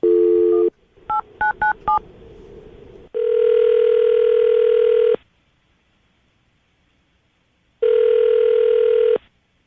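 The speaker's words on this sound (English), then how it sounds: "I'm going to call her right now, see if we can get her on the phone" Telephone dialing tones beep in a quick series between steady bursts of ringback as a radio host calls a listener, with a long buzzing tone, a pause, then another ring, loud and close.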